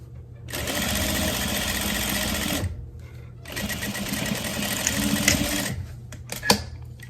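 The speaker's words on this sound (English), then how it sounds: "I'm just gonna sew down right at the very edge up to here" Sewing machine stitching along the very top edge of a satin and lace top, a steady close whirring run that pauses briefly and resumes, then slows to a stop.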